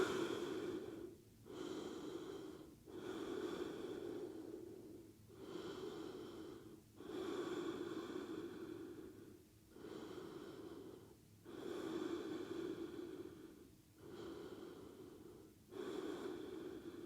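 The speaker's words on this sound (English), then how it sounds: "Breathe." Slow, deep breathing held through a yoga pose, with about seven long airy inhale-exhale cycles in a steady rhythm, close and clear with a slightly nasal, snorting edge and no speech.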